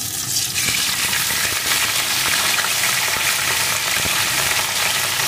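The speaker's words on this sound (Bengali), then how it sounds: "এখন বেগুনটাকে একটু এইভাবে নাড়িয়ে ভেজে নেব।" Cut eggplant pieces frying in hot oil in a pan, a steady close sizzle with crackling and occasional stirring scrapes throughout, no talking.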